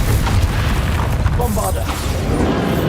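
Confringo fire spell blasts in Hogwarts Legacy, booming bursts under a voice shouting spell names, with dense rumbling noise throughout.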